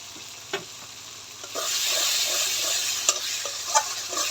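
Masala with four or five green chillies fries for a rohu fish curry, a quiet start swelling into a loud close sizzle, with several sharp spatula knocks and scrapes as it is stirred.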